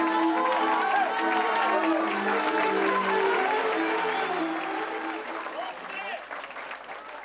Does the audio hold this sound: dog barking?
no